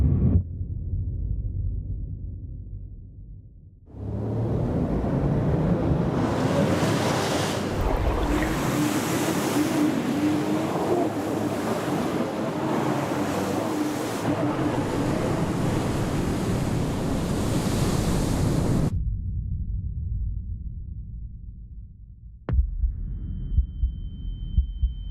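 Ocean waves break at a surf spot in Jeffreys Bay, a long, loud, roaring wash of surf that swells, rumbles for some fifteen seconds, then cuts away, with wind noise and handling bumps around it.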